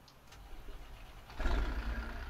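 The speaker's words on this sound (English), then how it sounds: "Oops, I just let the clutch out with it in the gear still." A truck engine in American Truck Simulator lurches when the clutch is let out with the truck still in gear. A low idle rises into a sudden heavier rumble partway through and then stays at that level. Nearby and moderately loud, with no talking.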